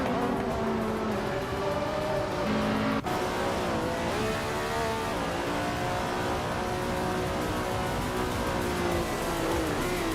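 Race cars roar through a video-game race, engines droning and shifting pitch continuously as they accelerate and pass, dense and loud throughout with a brief sharp break partway through.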